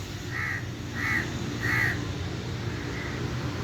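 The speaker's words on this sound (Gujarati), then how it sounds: "કૌવાભાઈ પાછો અવાજ દે છે" A crow caws four times at a steady pace, faint and a little distant, over a constant low background hiss with no talk.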